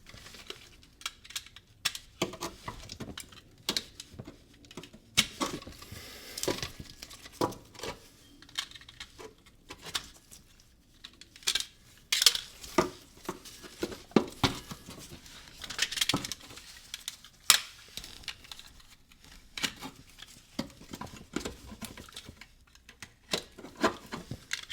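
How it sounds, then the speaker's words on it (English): A blade slices through the inner rubber edge of an Audi B5 S4 driveshaft carrier, giving soft, irregular clicks and scraping ticks close up with no talk. "So we'll actually feed our blade through and then just cut all the way through this inner edge of rubber here."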